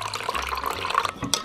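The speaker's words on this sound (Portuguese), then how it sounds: "E adicionamos 150 ml de água fria." Cold water pours in a steady close splash into a bowl of dissolved lemon gelatin, with a brief clunk near the end and no voices.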